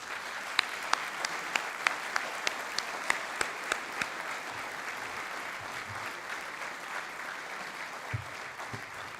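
Audience at a 2023 Hall of Fame induction ceremony breaking into sustained applause, dense clapping from a large crowd with a few sharp nearby claps standing out, steady and moderately loud throughout.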